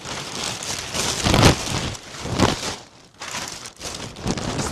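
A plastic garbage bag rustles and crinkles loudly and close, in repeated bursts of handling with a brief pause midway.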